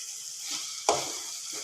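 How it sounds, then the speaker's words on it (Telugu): Dried red chillies fry in oil with a soft, steady sizzle, broken by one brief sharper crackle or stir near the middle, close and moderately quiet, with no talk. "ఇవాళ ఆయిల్లో మగ్గిచ్చే ఎండుమిరపకాయలు కదా"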